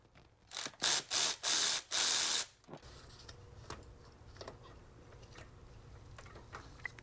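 A ratchet loosens the T45 Torx water pump bolts on a Ford Flex 3.5 EcoBoost engine in a quick run of five sharp, close clicking bursts. Faint, low workshop noise follows.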